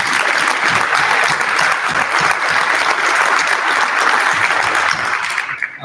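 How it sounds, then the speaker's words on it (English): A military change of responsibility ceremony crowd applauds the color guard and formation, loud continuous clapping that holds steady before tapering off at the end. "give the round of applause to the color guard, the formation, and all the behind-the-scenes action"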